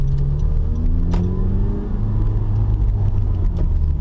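A 2016 Honda Civic Type R FK2 rumbles at a steady idle, close and loud, with a deep gruff tone that swells briefly before settling into an even drone.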